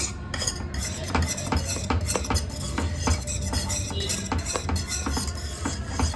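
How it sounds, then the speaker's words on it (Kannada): A whisk scraping and clattering steadily through thickening grape halwa in a metal pan, with repeated sharp metallic taps against the sides and a continuous stirring rasp, close and fairly loud. "ಎಲ್ಲನೂ ಮಿಶ್ರಣ ಆಗೋಕ್ಕೆ ಈಸಿ ಆಗುತ್ತೆ ಅಂತ ನಾನು ವಿಸ್ಕರ್ ತೊಗೊಂಡಿದ್ದೀನಿ"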